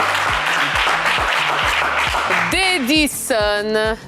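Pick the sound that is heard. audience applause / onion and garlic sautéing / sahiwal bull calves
audience applause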